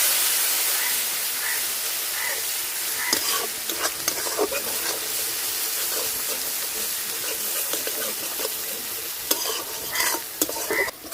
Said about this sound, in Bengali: সব মশলা দিয়ে ভালোভাবে কষাই নিই।